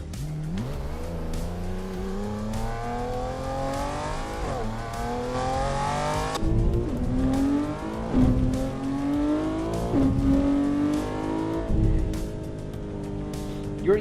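A video game car's engine rises and falls through gear changes, with tires squealing now and then, loud and steady throughout; a voice talks faintly underneath.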